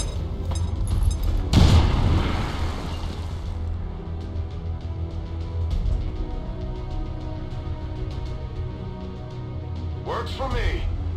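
A grenade goes off in XCOM 2: one loud, close blast near the start, then a long, low rumbling tail under ongoing game sounds, with a brief voice-like call near the end.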